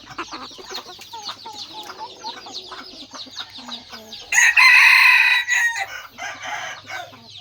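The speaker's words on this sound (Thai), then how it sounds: "นี่ก็แกนหนุ่มสุดหล่ออีกตัวหนึ่งนะครับ ขนหางยาวมากนะครับ ไก่ยังไม่คลึกนะครับ" A young fighting rooster lets out a single loud, close crow midway through, with softer clucking and bird chatter around it before and after.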